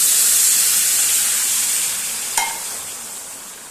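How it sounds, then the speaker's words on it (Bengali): Hot water poured into sizzling fried spice paste for a Bengali prawn and yam curry, a steady loud hiss and sizzle with a brief sharp splash partway through before the sizzle settles and fades slightly. "মশলাটা ভালো করে কষিয়ে নেব এবার দিয়ে দেবো বেশ খানিকটা গরম জল"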